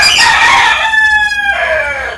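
Chickens being fed in a village yard, with one close, loud, drawn-out fowl cry that slides downward, much like a crow, and no talk.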